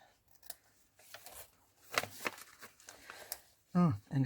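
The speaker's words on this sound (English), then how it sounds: "And we will do snip there, and a snip and a snip." Scissors snipping through digitally printed A4 paper in a papercraft session: several crisp, separate cuts and paper rustles, close up, with a voice speaking briefly near the end.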